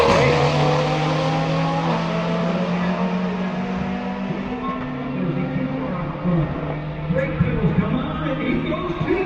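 Two drag racing cars, a Super GR and a 1990 Plymouth Laser RS, run an 11.5 index final: loud, droning engine tones rise and shift in pitch as they accelerate away, with a voice heard faintly beneath.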